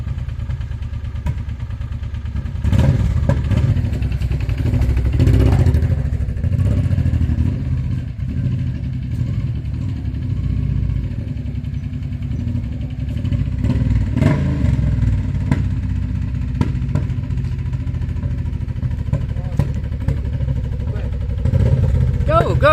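A motorbike just repaired after a radiator problem is test driven in The Gambia: a steady mid-distance engine drone with slight revving and occasional clatter, mixed with voices talking over it.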